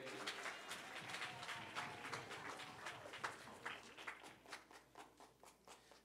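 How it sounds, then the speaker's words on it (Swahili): Church congregation applauding the mothers at a Christmas Day service, with steady, fairly faint rapid clapping that thins into scattered claps toward the end, heard from some distance. "Tuwapigie makofi tena wamama."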